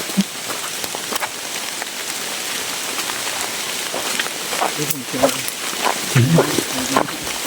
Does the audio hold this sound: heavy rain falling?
yes